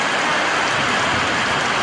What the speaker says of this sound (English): In Colonia Bellavista, it's just a regular rain.